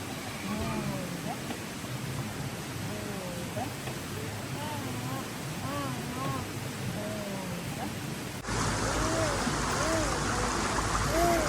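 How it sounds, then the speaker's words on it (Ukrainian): A river flows steadily in the background in Zakarpattia, a soft continuous rush, while birds chirp and a voice speaks; the rushing grows louder near the end. "Послухаємо шум річки."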